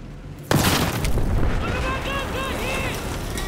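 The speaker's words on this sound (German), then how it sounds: "schmeißt eine Granate." A grenade detonates in the Battlefield 4 beta shooter game, one sudden heavy boom followed by a long rumbling tail, with a voice talking over the fading noise.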